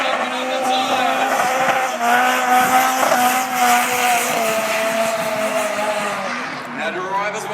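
Drift cars racing at Calder Park, engines screaming with sustained high-pitched tire squeal throughout, loud and close, with a commentator's voice over the noise.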